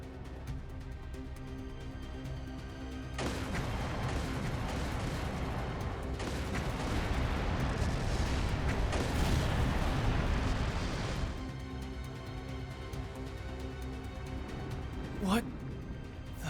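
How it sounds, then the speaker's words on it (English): Gunfire and explosive booms roll in the distance during a battle in a city in Trails Through Daybreak II, a dense, rumbling barrage that rises and falls under character voices. "Confirming source of gunfire."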